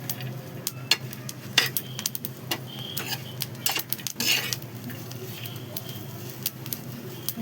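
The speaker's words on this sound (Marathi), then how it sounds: "लसूण पण आपण यामध्ये भाजून घेऊया." Garlic dry-roasting in a pan with coconut and onion for a surmai fish masala, heard as scattered scraping and clinking of a spatula against the metal pan over a low, steady background, with a brief louder rustle midway.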